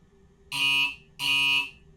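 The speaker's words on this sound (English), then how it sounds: "Doors are now shutting, so let's just wait for them to sort of shut." Two loud electronic buzzer tones from a train's door-closing warning in Train Simulator Classic, each lasting about half a second with a short gap between them, close and clear with no talk.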